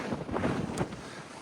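Wind on the Appalachian Trail buffets the microphone in rough, uneven gusts, a low rumbling roar with a brief louder burst near the end.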